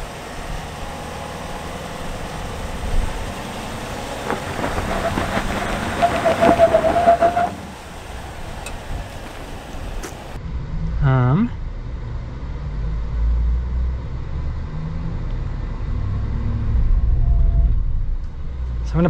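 A 2022 Chevy Silverado ZR2 pickup spins its wheels off-road. Engine revs rise and fall under road-like rumble, with a brief whine partway through and a steady low drone afterwards, and no clear talk.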